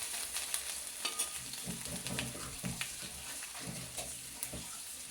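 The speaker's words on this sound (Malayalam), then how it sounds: "ഇഞ്ചി ഒന്ന് മൂപ്പിച്ചെടുക്കാം." Ginger frying in a pan over low heat, a soft steady sizzle broken by scraping stir strokes and light clinks, close but fairly quiet.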